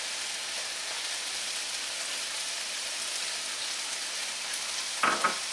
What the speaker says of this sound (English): I'm going to go ahead and add my garlic